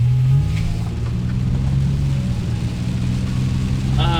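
Engine of a modified Lexus ES250 daily driver heard from inside the cabin, a steady low drone holding throughout with a slight rise near the end.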